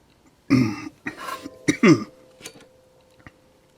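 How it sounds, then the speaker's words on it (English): A few harsh, close coughs come in quick succession, followed by quieter throat sounds and faint clicks. "For some reason, I have a cough."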